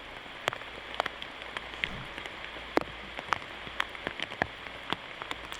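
Rain falling on a disc golf course, a steady soft patter with scattered sharper drops landing close by, continuous throughout with no voices.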